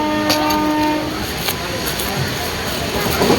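A passenger train runs with a steady rumbling clatter heard from inside a carriage, a sustained horn-like tone in the first second, and voices murmuring throughout.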